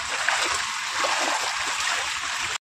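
Heavy cyclone rain floods a courtyard in the Dooars area of North Bengal, a dense, continuous rush of falling and splashing water, loud and close without letup.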